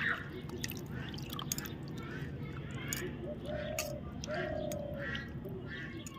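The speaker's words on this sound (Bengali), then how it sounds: "আমি জল দিয়ে দিচ্ছি আর ভালোভাবে এটা পরিষ্কার করে আমি ধুয়ে নিব" Raw chicken pieces are rinsed with water in a kitchen while the meat is squeezed and cleaned. The sound is soft splashing and dripping, with a voice talking quietly alongside.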